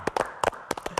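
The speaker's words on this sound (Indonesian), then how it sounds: "Boleh tepuk tangan dong." Scattered hand claps in a television health-show studio, a handful of sharp, separate claps spaced irregularly across a brief moment, fairly close and without talk.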